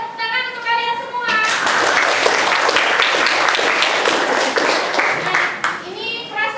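Children in a classroom clapping together, a loud dense burst of applause that follows brief speech and lasts several seconds before voices return at the end.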